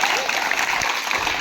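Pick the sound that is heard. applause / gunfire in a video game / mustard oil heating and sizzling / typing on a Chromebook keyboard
applause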